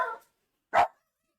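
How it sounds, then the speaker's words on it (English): A pet dog named Pi barks twice, a short bark followed by a louder, sharper one after a pause of about half a second, close by with no talk over it. "Pi, stop barking, baby girl."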